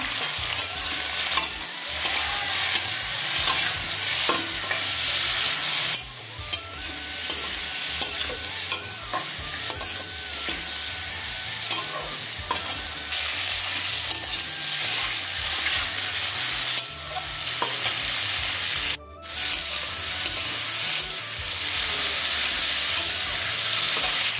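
Flat beans fry in a pan with turmeric and salt, giving a loud, continuous sizzle close up. It is broken by repeated scraping stirs, with a brief gap near the end.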